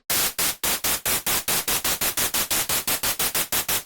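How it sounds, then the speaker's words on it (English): Harsh synthesizer white noise pulsing in rapid, evenly spaced bursts, each hiss swelling and cutting off, speeding up slightly over a few seconds. "in the noise section, we can choose to start the phase of each noise oscillator"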